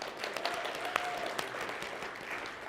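Live-stream audience applauding the crew, a steady wash of scattered clapping with a few sharper individual claps, moderately quiet and continuous throughout.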